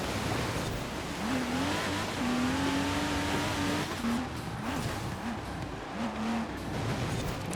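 The Pink Pig race car in Forza Horizon 4 drives on snow, its engine holding a steady, fairly loud whine with repeated rising and falling pitch swings as it struggles for grip.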